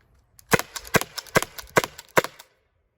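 Byrna SD CO2-powered launcher fired in a quick series of about five sharp, snappy pops with short echoing tails, close and loud, spaced under half a second apart, with no talking.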